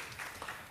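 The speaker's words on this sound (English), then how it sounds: "So a round of applause, please, for our panelists." Brief burst of audience applause for conference panelists at a space-science event, a soft, dense patter of many hands lasting under a second.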